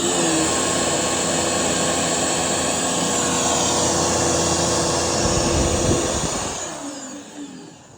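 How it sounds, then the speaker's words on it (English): A Bissell vacuum cleaner roars loudly and steadily for several seconds, then its motor winds down and fades near the end. "Turn the vacuum on. This should be spinning around like a tornado."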